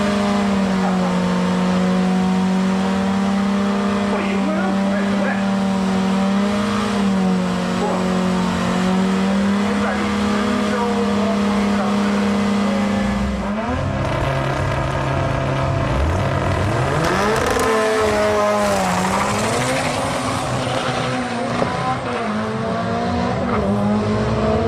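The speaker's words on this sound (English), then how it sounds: "The quickest Silvia was this grey S15." A grey Nissan Silvia S15 drag car at Sendai Highland roars loudly and continuously, engine droning at high revs before a sharp gear change and renewed acceleration, with crowd noise in the background.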